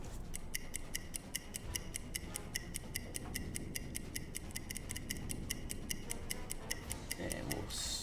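A crisp, steady stopwatch ticking in the submarine game UBOAT repeats about four times a second throughout, over a rough rushing background like wind or water, set in the Arctic.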